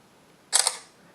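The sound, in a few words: Samsung Galaxy Note 4 camera shutter taking a picture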